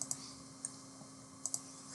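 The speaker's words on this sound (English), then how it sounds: "now I'm clicking on the restart" Computer mouse clicks on a machine running Docker setup, a few sharp, faint isolated taps near 0.1, 0.65 and 1.5 seconds, including a quick double click, over a steady low electrical hum.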